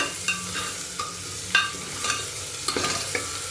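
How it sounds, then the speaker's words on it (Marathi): A spoon scrapes and stirs chopped tomatoes into pav bhaji in a pan, with regular scraping strokes over a soft sizzle and no talking. "आता ह्याच्यामध्ये आपण टोमॅटो घालूया ही मिक्स करू छान"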